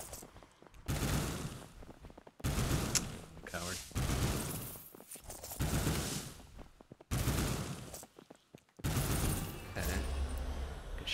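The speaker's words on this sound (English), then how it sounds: "Shitty SMG." SMG gunfire in the video game Lone Ruin comes in repeated rapid bursts, with short quiet gaps between them.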